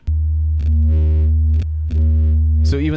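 Distorted synth patch from the Elegy instrument in Ableton Live 12, playing a steady, buzzy sustained tone with rich harmonics that shifts pitch and texture in a few short phrases, loud and alone.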